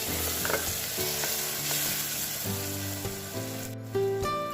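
Steady sizzling of keema frying in a pan as turmeric is added, with a spoon stirring and scraping through it over a constant background hum.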